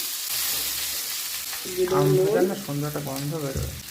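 Cut mango pieces hit hot oil for aam shol, a low sizzle rising as they are stirred in, with a voice speaking over the frying.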